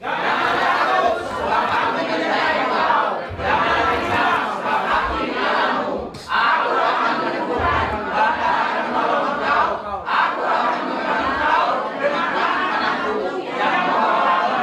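A church congregation shouts and cheers loudly in praise of God, a dense continuous roar of many voices with brief dips, sustained throughout.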